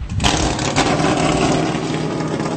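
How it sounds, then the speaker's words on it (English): Several loud Sprint Cup stock car engines rumble and roar together nearby in the Kentucky Speedway garage before practice, a dense, rough idle with brief revs, no pauses. "As you can hear, the teams are cranking up these engines."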